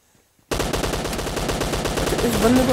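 Rapid, loud gunfire in a military base shootout within a battle royale video game, starting abruptly after a short quiet moment and continuing as a dense, sustained burst to the end.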